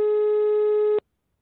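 A steady electronic telephone line tone sounds for about a second while a call is being placed, then cuts off abruptly into silence.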